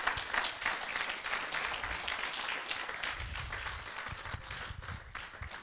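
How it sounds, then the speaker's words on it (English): An audience at an independence lecture in Micoud gives a sustained round of applause, fairly faint and steady, with scattered louder claps and some low thumps underneath. "I think it deserves another round of applause"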